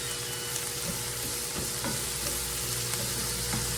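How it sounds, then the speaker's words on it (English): Squash is stirred in melted butter in a hot pan, giving a close, continuous sizzle and frying hiss with soft scrapes of the spoon throughout. "Give this a little stir here."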